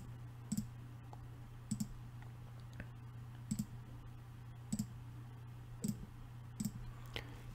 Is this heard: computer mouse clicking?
yes